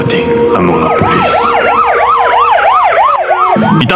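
Wailing emergency siren of a police car arriving at a crime scene, sweeping up and down in steady repeated rises and falls, loud and close with a second siren layered underneath.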